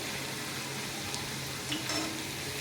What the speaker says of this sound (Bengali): খুব সুন্দর কিন্তু একদম বোঁদে বোঁদে তৈরি হচ্ছে